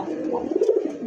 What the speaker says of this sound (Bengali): ডাকটা শোনেন ভাই, ডাক দেখলেই মন শান্তি, বাক বাকুম।